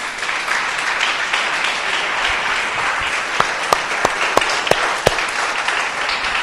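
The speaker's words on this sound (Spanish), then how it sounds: "Denle un aplauso al Dios del cielo." A church congregation breaks into sustained applause, a broad, even roar of clapping from many hands, with a few sharper individual claps popping out near the end.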